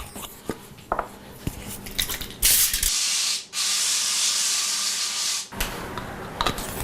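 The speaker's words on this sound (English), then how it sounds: "We need to spray the aluminum foil," An oil mister sprays cooking oil onto aluminum foil in a home kitchen, giving two steady hissing bursts of a few seconds each, with clinks and rustles of foil and pans before and after.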